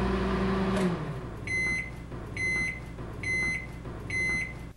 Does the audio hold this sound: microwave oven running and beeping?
yes